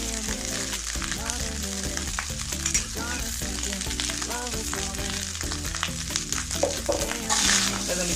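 Chicken 65 pieces stir-fried into chicken fried rice in a hot pan: continuous loud sizzling with frequent clanking of a spatula against metal, no talk.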